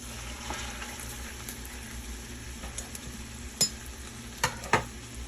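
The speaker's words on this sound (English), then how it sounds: "So, I'm just gonna add this rib and just let it cook until it's like a nice color on the other side" A rib searing in a hot skillet, a steady close sizzle and crackle of frying with a few sharper pops and light utensil clicks near the end, no voices.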